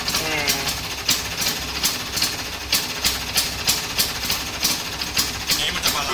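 An original Vespa two-stroke engine runs with a rapid, regular percussive pulsing, a steady train of sharp knocks repeating about twice a second at moderate level, alone with no talking.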